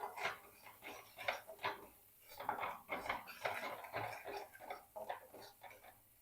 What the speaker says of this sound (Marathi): हे छान परतून घ्यायचंय आहे आपल्याला